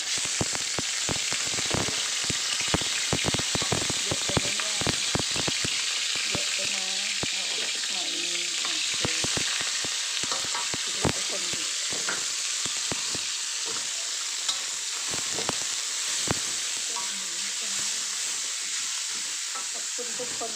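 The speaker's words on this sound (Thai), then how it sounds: "แล้วก็จะผัดกะเพราจะ ใส่หมูลงไปเลย" Minced pork with holy basil stir-fried in a pan, with a constant close sizzle and dense, rapid spatula scrapes and taps against the metal across the whole stretch, with no voices.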